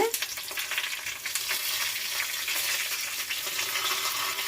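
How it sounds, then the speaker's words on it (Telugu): Dried red chillies, coriander seeds and cumin fry in oil for a drumstick-leaf and curry-leaf chutney, producing a continuous bright crackling sizzle up close, fairly even and unbroken. "ఇప్పుడు ఎండుమిర్చిను ధనియాలు జీలకర్ర ఆయిల్లో వేసేస్తున్నాను"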